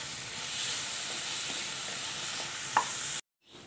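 Onion, tomato and green chili with a little salt sauté in a pan, producing a continuous close sizzle and hiss with a light stirring scrape, before the sound cuts off abruptly.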